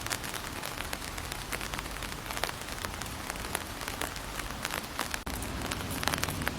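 Steady rain pours down across a Shinto cemetery in the middle of a city, a dense close hiss of drops striking surfaces with no pauses and no voices.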